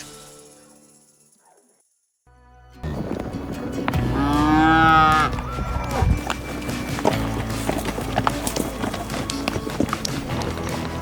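A cow on a Colorado ranch moos loudly with a long, wavering call after a brief quiet stretch, followed by rustling, thumping movement and scattered knocks nearby.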